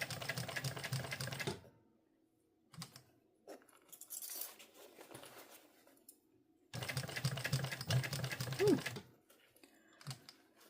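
A sewing machine stitches the gusset side seams of a small leather backpack in two sustained runs, a long one at the start and another near the end, with quieter handling sounds and a brief voice-like sound in between.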